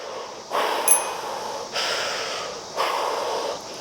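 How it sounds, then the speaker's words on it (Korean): Three deep breaths are drawn and pushed through a thin KF-AD fabric face mask, each a loud rushing whoosh lasting about a second, separated by short pauses, close up with no talking. "제가 숨을 크게 쉬어볼게요"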